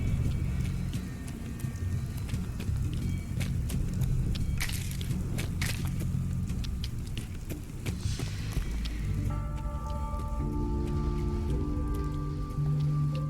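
Steady rain patters in the Fallout 4 video game during a red storm, a dense hissing wash that continues throughout, with a few sharper impacts partway through and a low droning tone joining toward the end.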